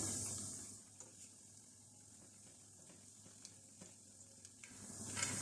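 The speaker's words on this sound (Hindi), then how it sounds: "हल्की आंच पे इनको फ्राई करेंगे।" Moong dal dumplings (mangochiyan) frying on a low flame, a quiet, steady faint sizzle with occasional small ticks and pops, no voices.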